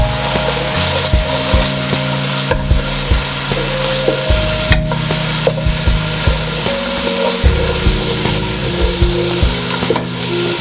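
Shrimp frying in a pan with turmeric coconut seasoning gives a loud, close sizzle, with regular scraping and knocking strokes as a tablespoon of spice is mixed in.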